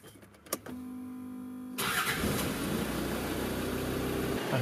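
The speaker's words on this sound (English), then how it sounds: "All that now remains is to start the engine" A Land Rover Discovery 2 with a repaired starter motor cranks briefly, then its engine catches and settles into a loud, steady idle heard close up.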